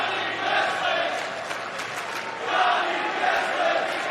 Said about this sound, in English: Very vocal crowd, however, cheering for Johnny Wrestling to start things off